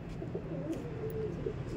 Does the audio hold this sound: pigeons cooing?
yes